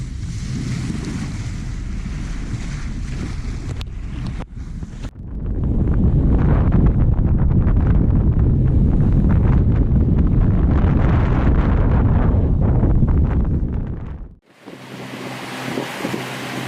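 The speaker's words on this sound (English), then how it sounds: "Coming back into the lee of the island, so the wind's been getting really patchy." Wind blowing over the open sea while sailing near an island, a loud, steady roaring rush with buffeting on the microphone and the wash of water, dropping off sharply near the end.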